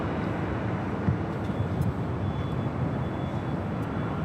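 Steady broadband roar of a United Boeing 737-800 in Star Alliance livery arriving at LAX from SFO, a continuous loud jet rumble with a faint whine above it, sustained throughout with no voices.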